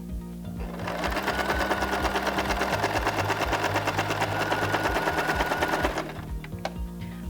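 Sewing machine stitching a pillowcase, running steadily for about five seconds with a rapid, even needle rhythm, then stopping, followed by a few faint handling clicks.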